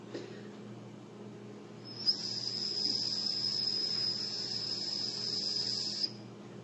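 A short drinking straw cut to one-eighth of its full length, blown across the top, gives a steady high-pitched whistle that holds for about four seconds over a faint background hum.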